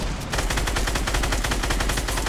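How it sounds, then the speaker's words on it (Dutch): Rapid automatic gunfire in the battle royale game Fortnite rattles continuously and loudly up close, a dense, fast stream of shots with no talking. "Blijf schieten."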